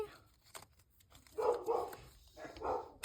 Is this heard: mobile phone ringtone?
no